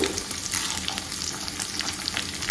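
Urad dal and mustard seeds fry in hot oil, giving a dense, close crackling sizzle with faint popping that stays loud and steady throughout.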